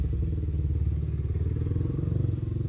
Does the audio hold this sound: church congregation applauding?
no